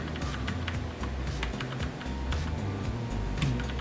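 Keys tapped on a Keychron K4 mechanical keyboard make a series of sharp, close clicks at an uneven pace over a low background hum, with no speech.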